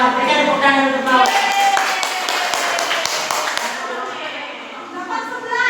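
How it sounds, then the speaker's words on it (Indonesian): Students in a classroom applaud during a practice teaching session, a steady patter of many hands clapping with voices over it, fading toward the end. "Berikan tepuk tangan untuk bawa"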